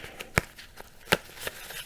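Playing cards being shuffled by hand at a board game table, with a few sharp riffle snaps among softer brushing card sounds, close and clear.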